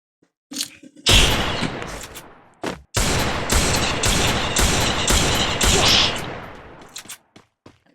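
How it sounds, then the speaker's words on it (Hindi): A gun fires in loud bursts of rapid shots, several sustained volleys with brief gaps between them, close and booming. "इस गन से मारने वाला हूँ"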